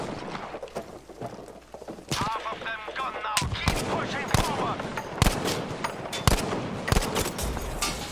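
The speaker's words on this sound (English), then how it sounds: "Oh, that was a lucky shot." Gunfire in the Battlefield 5 video game, with repeated sharp shots and short bursts over about eight seconds, close and loud, mixed with scattered clatter and brief game noise.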